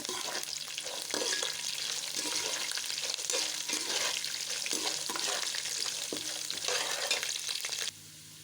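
Garlic and curry leaves fry in hot oil for a poha mixture, a loud continuous sizzle with scraping stirs of a spoon in the pan, close by, ending abruptly near the finish.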